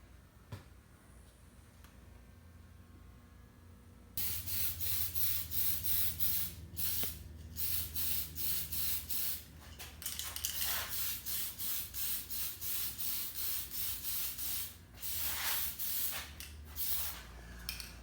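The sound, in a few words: spray primer being applied to Tamiya model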